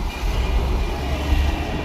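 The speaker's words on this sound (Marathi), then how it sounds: "पुणे मेट्रो" A Pune Metro train passes close by, producing a steady low rumble with a faint airy hiss throughout and no voices.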